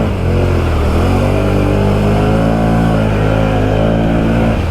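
A 2019 Can-Am Outlander 650 XMR ATV stuck in nasty mud, its engine held wide open at a steady, loud, droning high rev for the whole stretch, close up with no letup.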